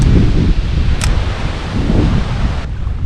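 Strong gusting wind roars across the microphone outdoors at a New Jersey pond, a loud continuous low rumble with a brief higher hiss partway through.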